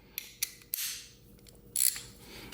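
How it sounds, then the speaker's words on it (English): Ratchet with an extension and a T50 Torx bit working a motorcycle's top shock bolt, giving a few short clicks and a quick burst of ratcheting, close and moderately quiet. "to remove that top shock bolt here, I have myself a T50, T50 Torx bit and my ratchet with an extension"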